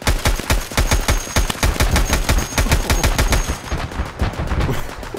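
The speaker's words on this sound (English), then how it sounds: "We return fire on those, Joe." Automatic gunfire in the video game Escape From Tarkov: a long, rapid string of sharp, evenly spaced shots that rattles on for several seconds at close range and then slows slightly near the end.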